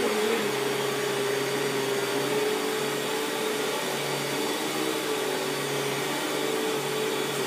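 A vacuum cleaner motor runs on a rug with a loose plastic piece straining its power, a steady close droning whine that holds unbroken throughout, with no voices.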